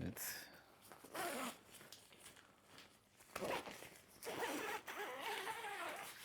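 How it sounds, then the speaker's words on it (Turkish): The zipper on the outer door of an Evolite Summit Pro four-season solo tent is pulled open in several close, rasping runs, with fabric rustling between strokes. "Şimdi burada dış kapının kapısını açalım."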